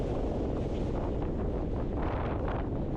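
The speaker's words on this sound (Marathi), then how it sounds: "समुद्राचा आवाज" Sea at a Goa beach, a steady low roar of surf heavily buffeted by wind rumble against the microphone, continuous and fairly close with no voices.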